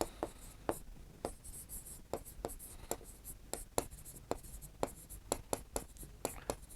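Quick, close scratching of a pen writing by hand on paper, in irregular strokes and taps repeated steadily across the whole stretch, without speech.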